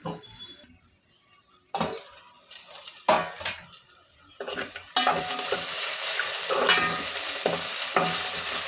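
Okra frying in a pan, a spatula scraping and stirring in bursts of metallic clatter, then a loud continuous sizzle rising and holding near the end, close and without talk.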